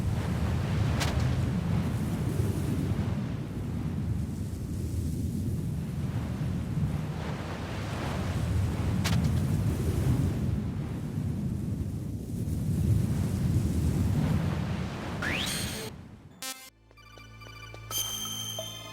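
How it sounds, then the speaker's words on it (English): Waves surging against cliffs in the video game Metal Gear Solid, a continuous low roaring wash that swells and recedes with wind, cut off near the end by a sharp electronic tone. "you can hear the sound of waves when going to the edge of the cliffs"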